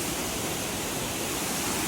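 Water pouring down a hidden waterfall in Amboli, a steady, loud, hissing roar with no break, close and enveloping.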